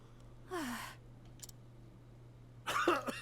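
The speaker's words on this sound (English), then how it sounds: "Cough, cough." A character in Octopath Traveler coughs in a few short, breathy bursts separated by quiet, close and soft against a faint steady hum, with one rougher cluster of coughs near the end.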